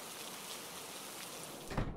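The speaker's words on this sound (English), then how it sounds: "It's raining outside." Rain falls outside in a soft, steady patter, faint and even, with a brief low thump near the end.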